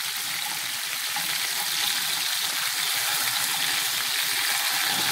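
Rotan fish frying in hot oil in a pan, a steady, loud, continuous sizzle and crackle with no break from start to finish and no voices.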